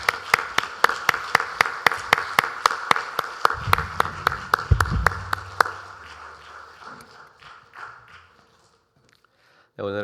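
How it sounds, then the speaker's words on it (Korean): Sharp, evenly spaced claps ring out in a church worship service, a steady rhythmic clapping that thins and fades away after a few seconds, with a voice briefly at the end. "하나님께 영광의 박수를 올려드리겠습니다."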